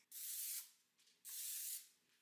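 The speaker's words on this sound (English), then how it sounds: "I'm just going to spray it with this." Two short hissing bursts from an olive oil spray can onto a pan, close and fairly quiet, separated by a brief pause.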